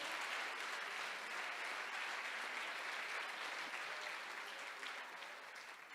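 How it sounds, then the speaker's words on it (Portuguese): Congregation applauding during a church service, a thick, even spread of clapping that fades slightly near the close. "Você pode aplaudir ao Senhor e glorificar a Ele?"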